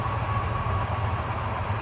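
A train rolls along nearby tracks with a steady, low rumble and a continuous wash of noise that stays even and unbroken from start to finish.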